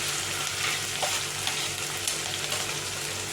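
Green chillies and ginger-garlic paste sizzle steadily in a hot pan while Hakka noodles are being made, a dense continuous frying hiss with faint stirring scrapes throughout, no voices.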